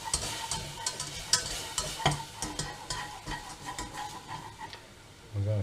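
Milk being stirred into a pan of dauphinoise sauce, with steady scraping and stirring over a soft sizzle, a few louder clinks of utensil against the pan, and a brief heavier burst at the very end.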